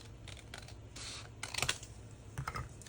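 Scissors make a few quiet, brief snips through paper while cutting a corner embellishment for a junk journal, close and faint against a soft room background.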